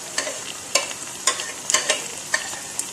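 Tomatoes and green chillies fry in a pan for masoor dal, a steady sizzle broken by sharp scraping clacks of a spoon stirring at irregular intervals, close and without talk.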